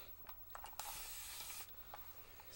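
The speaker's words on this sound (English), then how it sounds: "I have my spray bottle here" A handheld spray bottle mists water onto hair in quick bursts, with a long sustained spray in the middle followed by a few shorter squirts, close and fairly quiet.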